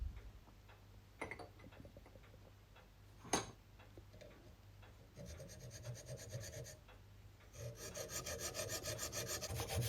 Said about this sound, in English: Using my hacksaw, I take some very careful cuts